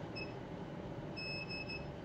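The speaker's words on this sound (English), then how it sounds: "When the two beeps have come" Two thin electronic beeps from a small X-Cube device after its memory button is held, the second longer, faint over a quiet background hum.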